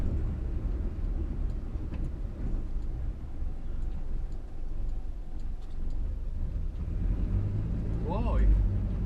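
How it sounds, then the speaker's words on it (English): A 1962 Morris Minor engine idles roughly and misfires, giving a low, uneven rumble with faint ticking throughout and a louder stumble near the end, while people talk nearby. "Now look, that's a misfire."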